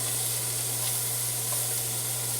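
Goat meat with small bones and fat searing in a hot pot, giving a steady, close, even sizzle that holds unbroken throughout with no talk over it.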